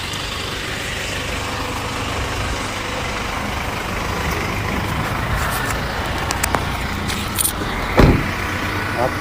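A road vehicle engine hums steadily nearby with a low rumble, a brief louder thump near the end, and faint background noise throughout.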